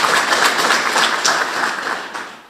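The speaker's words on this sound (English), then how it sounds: "that is something to clap about" Steady audience applause at a patriotic celebration in South Carolina, honoring the state's manufacturers; a crowd claps densely and evenly, then tapers off near the end.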